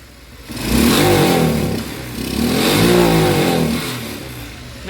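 Shineray motorcycle engine, run without its air filter, is revved twice in long swelling surges, rising and falling back toward idle between them, loud and close with no voices.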